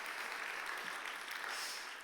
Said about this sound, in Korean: 격려의 박수 한 번 더 하겠습니다